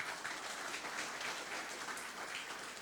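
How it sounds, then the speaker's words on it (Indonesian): Faint, distant applause from a corporate anniversary gathering, an even patter of many hands heard through a large sound system, steady throughout. "tepuk tangan."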